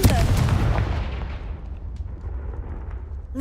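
Confringo explosive spell in the Hogwarts Legacy video game: a loud, deep explosion right at the start, followed by a long rumbling tail that fades over a few seconds, with no talk.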